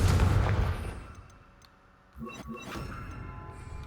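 The Confringo blasting spell in Hogwarts Legacy goes off as a sharp, booming explosion. A quieter lull follows, then a few crackling bursts and ringing magical tones.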